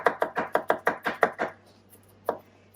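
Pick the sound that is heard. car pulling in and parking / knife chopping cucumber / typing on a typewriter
knife chopping cucumber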